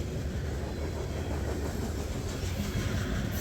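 Norfolk Southern freight train led by three GE ES44AC locomotives rumbles past as a steady, dense wash of engine drone and rolling wheel noise, moderately distant and continuous without voices.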